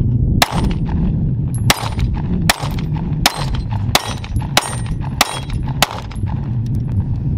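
Pistol shots from a Smith & Wesson M&P Shield Plus with an extended 8-round magazine, about nine loud sharp reports at a steady, deliberate pace over a range's low background rumble.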